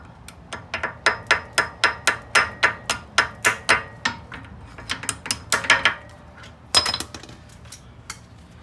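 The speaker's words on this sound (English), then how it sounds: "You can slightly tap it with a hammer." Rapid, evenly spaced metallic taps of a hammer on clips being removed, about a dozen in a row, then a few scattered louder strikes close by.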